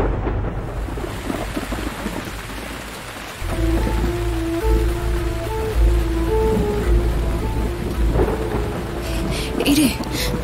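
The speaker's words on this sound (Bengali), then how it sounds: "এখনই বৃষ্টি শুরু হলো।" Rain begins falling on an evening scene in a drama, a steady broadband hiss that thickens suddenly partway through, with low rumbles like distant thunder; soft music and faint voices sit underneath.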